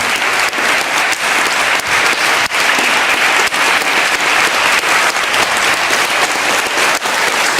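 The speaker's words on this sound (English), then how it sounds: "as you're clapping there" Loud, close, continuous audience clapping at a stage performance, a dense even wash of hands with brief dips in intensity throughout.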